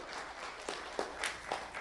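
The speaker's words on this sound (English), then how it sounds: "Round of applause for Jose Santos." An audience applauds Jose Santos at a sheriff's office recognition event. The clapping is faint and sparse, with a handful of distinct individual claps spread over a soft background.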